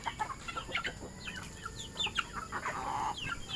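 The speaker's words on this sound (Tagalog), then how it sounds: "Papakain naman tayo ng maaga sa ating mga manok." Several chickens cluck and chirp in short, scattered calls, fairly close, with a steady background hum and no talking.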